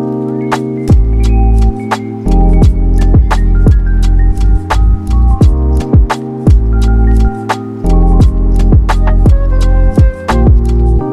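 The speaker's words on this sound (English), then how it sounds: "there's just the bell and it sounds like this" A bell rings out a melody of sharp, repeated struck notes, each ringing and decaying, played in a steady rhythm without voices.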